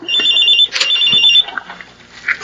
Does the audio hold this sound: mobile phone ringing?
yes